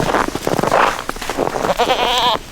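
A goat bleats loudly and close by outdoors, a wavering nasal cry in several quick bursts ending in a long quavering bleat.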